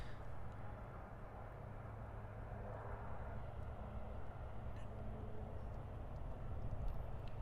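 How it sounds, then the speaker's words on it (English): American Airlines flight 2703 arriving on runway 9 at Miami International Airport, a steady distant jet engine roar holding low and even throughout, no talking. "arriving on runway 9 now is the American Airlines flight 2703"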